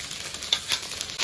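Scallion, ginger, garlic and spices such as Sichuan pepper and star anise sizzling in hot lard, a soft continuous crackling hiss with faint stirring bursts, close and alone.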